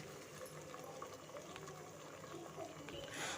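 Chopped cabbage, about a quarter kilo, goes into a simmering cabbage gravy with a soft, close bubbling and sizzling wash. A brighter rustling splash rises near the end, and it all stays faint throughout.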